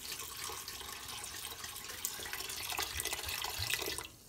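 Beaujolais Nouveau from France is poured from a bottle into a pot to make Gluehwein, a steady liquid splash and gurgle running for about four seconds and then stopping abruptly, close and moderately quiet.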